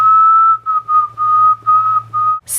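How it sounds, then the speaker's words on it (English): A person whistles a single steady note in short repeated phrases, loud and close, with brief gaps between each held tone. "I can whistle now and I think I'm improving."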